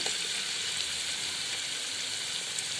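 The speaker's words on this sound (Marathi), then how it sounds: "आपलं तेल गरम झालेलं आहे त्यामध्ये टाकूया आता खोबरं लसूण अद्रक त्याची केलेली पेस्ट" A coconut, garlic and ginger paste frying in hot oil for a spicy mutton curry, giving a continuous, even crackling sizzle at steady volume with no voices.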